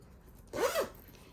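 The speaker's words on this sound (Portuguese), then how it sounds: "o fechamento dela na parte superior também é com zíper" A zipper on the top closure of a canteen-style bag is pulled once in a quick, close, faint rasping zip lasting under half a second.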